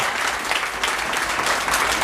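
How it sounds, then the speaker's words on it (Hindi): Steady, dense applause from an audience at a Bharthwal family foundation-day gathering in Garhwal Bhawan, Uttarakhand, filling the hall evenly and continuously. "तो तालियां बजती रहनी चाहिए लगातार"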